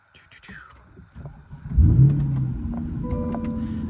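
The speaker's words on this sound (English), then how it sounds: "start the car up" A 2023 Chevrolet Corvette C8 3LT Z51 engine cranks and fires up with a sudden throaty roar, then settles into a deep, steady idle.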